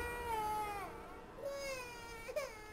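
A video game baby cries with wavering, sobbing wails that rise and fall over a few seconds, loud and close, with no talking.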